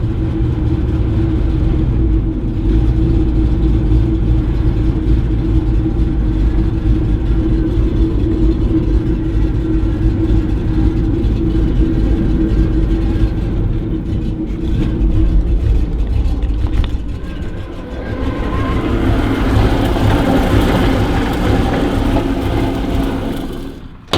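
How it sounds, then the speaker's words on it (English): An old truck engine, started without the choke, runs at a steady, loud idle with a deep low rumble throughout, rising slightly in intensity near the end. "Haven't even started this thing today. It'll start right up."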